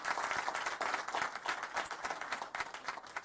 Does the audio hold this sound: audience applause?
yes